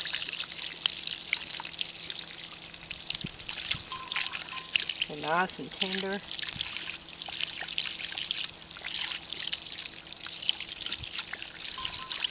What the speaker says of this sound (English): Okay, I'm just going to rinse them and cool them.